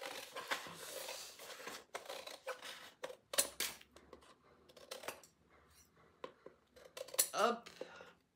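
Scissors snipping paper to make DIY paper Christmas trees: a series of quick, close cutting snips and rustles at an irregular rhythm, with a person speaking quietly at times.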